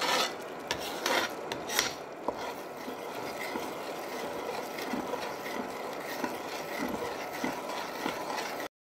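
A spoon scrapes and rubs continuously through simmering cream in a pan while ghee is being made, giving close, gritty, irregular scraping strokes over a faint sizzle.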